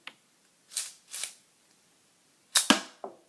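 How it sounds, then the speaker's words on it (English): A K'nex slide-action toy pistol is cocked and fired, giving a few sharp plastic snaps and clacks in quick irregular bursts, close and alone against a silent background. "So you pull this thing like that, then ready to shoot."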